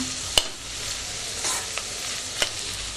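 Plenty of onions sautéing for chicken biryani while being stirred in a pan: a steady frying hiss broken by a few sharp spatula scrapes and clicks against the pan, close and alone.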